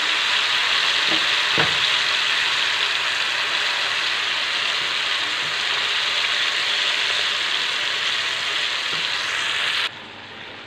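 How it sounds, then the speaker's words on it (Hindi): Bhajiya fritters fry in hot oil on a lowered flame, a loud, steady, dense sizzle that holds throughout, with a couple of faint clicks early on, then drops sharply quieter near the end. "और इसमें हम भजिया डाल देते हैं गर तलने के लिए"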